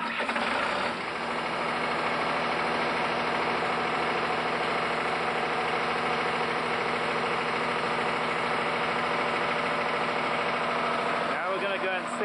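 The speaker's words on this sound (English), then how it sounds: "now we're ready to start the engine and pump the antifreeze back into the holding tank." A steady engine runs continuously to pump antifreeze back into a holding tank, at a constant mid-pitched drone, close by, with a brief change in tone near the end.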